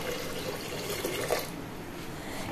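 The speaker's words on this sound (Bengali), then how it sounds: "এবারে পরিমাণ মতো জল দিয়ে দেবো" Water is poured into a pressure cooker holding mung dal with bottle gourd, drumstick and green papaya, making a soft, continuous splashing fill that is fairly quiet and close, with no one talking.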